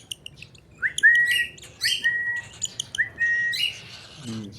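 Pet birds chirp and call while being fed: a few sharp, rising whistled notes and squeaky tweets come close and clear over faint background noise, ending with a brief low rustle.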